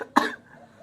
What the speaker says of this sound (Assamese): অলপ কাহ হৈ আছে একো নাই